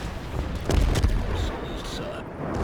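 Naval cruiser guns boom in World of Warships as the British cruiser Leander fires shells, a heavy blast landing near the start followed by a sustained rumbling roar over steady game background noise.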